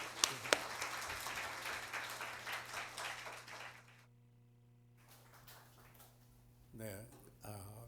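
A church congregation at a spiritual leadership training session applauds in a moderate, busy patter that stops abruptly, then a brief pause and some rustling follow, with a steady hum underneath.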